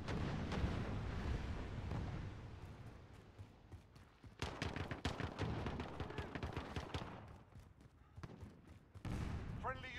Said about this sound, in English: Friendly Allied cluster strike inbound.